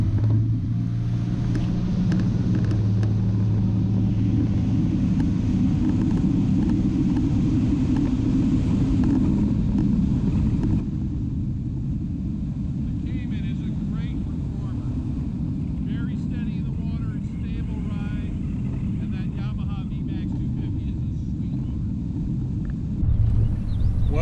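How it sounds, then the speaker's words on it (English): Steady low engine roar of a Robalo R226 Cayman boat with a Yamaha 250 horsepower VMAX outboard running on a river, loud and continuous with wind buffeting throughout. "experience the performance and power of this Yamaha 250 horse VMAX"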